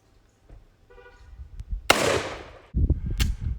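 A gunshot at an outdoor shooting range strikes a vacuum cleaner target, giving one sharp, loud crack followed by a decaying burst of noise, with smaller clatters and a second shot close by.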